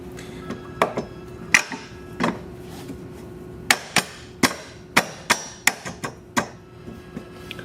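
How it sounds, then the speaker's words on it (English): A metal strut tower bar set onto strut tower studs in a MINI engine bay, a series of sharp close metallic clanks and taps at irregular intervals over a low steady background hum, with no talking. "we simply set it on top of the strut tower here, on top of those two studs"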